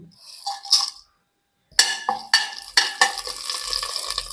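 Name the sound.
cinnamon, clove, cardamom, bay leaf and fennel frying in oil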